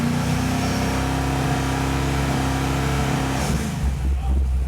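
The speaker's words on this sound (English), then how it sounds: "Can you bring the revs up?" A car engine with low oil pressure revs up steadily and loudly, a continuous mid-to-low drone holding for several seconds before dropping back and shifting near the end.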